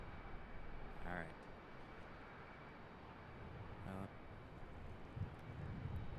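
A distant airliner arrives on runway 18 right at Charlotte international airport, its engine roar a faint, steady rumble with people talking nearby.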